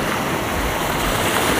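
Steady wash of surf on the Black Sea shore near Odesa, a continuous broadband roar with gentle swells and some wind, no voices.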